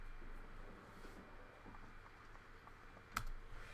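A few soft computer keyboard taps, pressing the plus key to zoom during video editing, faint and scattered against low room noise, with one sharper click near the end.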